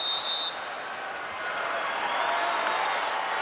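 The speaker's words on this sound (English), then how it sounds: "Crowd is, that's the loudest cheer we've heard all night." Crowd in a basketball arena during an NCAA Tournament first-round game between Green Bay and Texas A&M, applauding and cheering after a made shot, a sustained roar of applause after a brief buzzer-like tone at the start.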